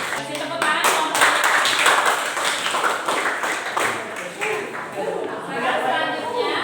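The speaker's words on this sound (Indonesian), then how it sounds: "Kasih tepuk tangan kelompoknya" Brisk, dense clapping from a small classroom crowd fills the room for several seconds, with scattered voices mixed in.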